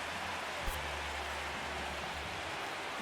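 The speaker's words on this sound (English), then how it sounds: "Oh, there's a 45-minute rain delay?" Rain falls in a baseball video game as a steady, even hiss of moderate loudness, with a single faint tap partway through and no voices.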